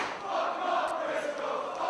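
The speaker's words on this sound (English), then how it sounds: "The crowd getting behind the champs." A wrestling crowd roars in support of the tag-team champions, a dense, continuous wash of cheering and shouting at an indoor event, fairly distant and unbroken for two seconds.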